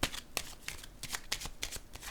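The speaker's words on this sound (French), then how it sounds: "Je vais déposer une autre carte ici." Playing cards being handled and laid down on a table during a card reading, a quick series of crisp snapping and sliding flicks, close and steady with no talking.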